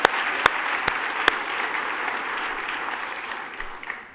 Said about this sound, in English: I think everyone deserves a large round of applause.